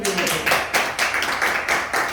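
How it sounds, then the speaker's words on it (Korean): Participants in a classroom training session for people settling in the countryside clap together: close, rhythmic bursts of hand claps in short regular pulses, with voices mixed in. "박수 한번 주세요"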